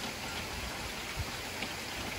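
Steady rain pours down during a Texas summer storm at a horse property, a constant even hiss with faint scattered drops and no voices.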